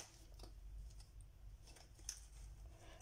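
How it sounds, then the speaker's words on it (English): An X-Acto knife cuts paper or mat board while 9x12 artwork is framed, giving faint, scattered scraping strokes at close range in a quiet room. "Use my trusty X-Acto knife"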